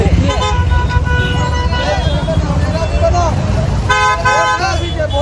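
Car horns toot repeatedly in a traffic jam on Vasai Evershine road, loud and close amid engine rumble and street noise, with people talking throughout.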